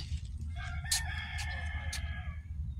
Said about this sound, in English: Crows are crowing.